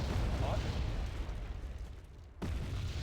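Artillery fire in a video game: a continuous low rumble of explosions that thins out, drops away briefly, then booms back in with a fresh blast.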